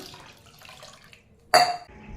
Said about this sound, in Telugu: ఇంకొంచెం వాటర్ అయితే యాడ్ చేద్దాం